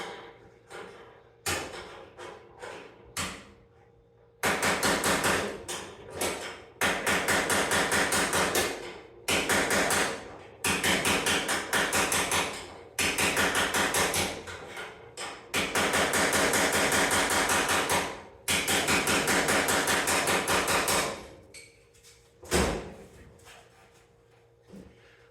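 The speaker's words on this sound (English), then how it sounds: "And that's Peyton's hammer" A Craftsman hammer taps on a roadster body panel during bodywork. Scattered single knocks give way to long, loud bursts of rapid hammering with short pauses between them. No voices are heard.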